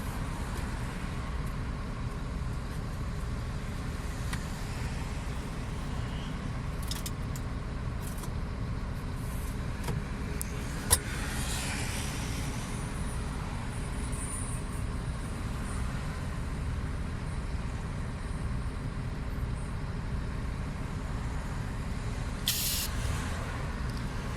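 An air pump inflating the tires of a car that has sat unused for a few days, with a steady hissing rush of air that runs throughout, some faint traffic in the background and no talking.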